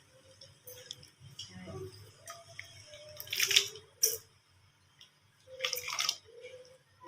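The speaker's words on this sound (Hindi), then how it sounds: "मु धोई के रखिथिबा चावल को एबे दे दउची।" Washed rice is tipped into a pot of hot water for Makar Sankranti jaou. Two short bursts of splashing and pattering stand out against quiet drips and faint kitchen sounds.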